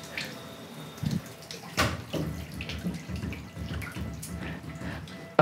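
Shower water runs steadily from a temperature-controlled shower driven by a stepper motor, a continuous close hiss with splashes and small bumps throughout.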